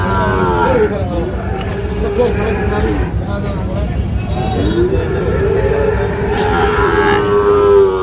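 Cattle, including Sahiwal bulls for Eid sacrifice, moo in long low calls amid a dense crowd murmur at Kaharol livestock market, with several voices talking continuously around them.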